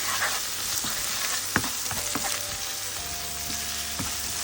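Okra (lady's finger) fries with an added egg in a hot pan, a steady, even sizzle throughout with a few soft stirring knocks and scrapes, no talk.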